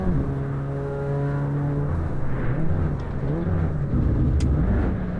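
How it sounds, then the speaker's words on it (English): Front-wheel-drive hot hatch engine in the racing sim Assetto Corsa EVO, revving and shifting through gears with a rising and falling tonal drone, loud and close with no talking. "This car sounds freaking so cool."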